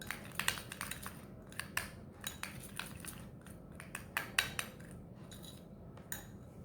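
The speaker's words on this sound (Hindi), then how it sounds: "अब इन सारे इंग्रेडिएंट्स को हम बहुत अच्छे से मिक्स करेंगे अराउंड 1 मिनट के लिए" A spoon stirs a beetroot face pack with honey in a bowl, giving quick, irregular clinks and scrapes against the bowl, close and fairly quiet, with no one talking.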